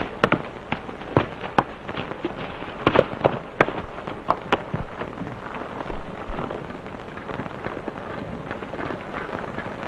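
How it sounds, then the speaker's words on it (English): Gunshots ring out in a 1931 black-and-white western film soundtrack, sharp cracks scattered irregularly, some in quick pairs, over a hissy old recording that fades to quieter crackle. "You're not going to fool us with any gunshots tonight"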